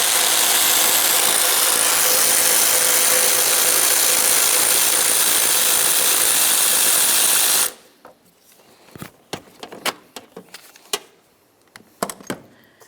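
A 10mm socket works a bolt loose while a fog light kit goes onto a 2006-2012 Toyota RAV4. A loud, steady rushing noise runs for several seconds, then cuts out, and a scattered series of sharp ratcheting clicks follows close by.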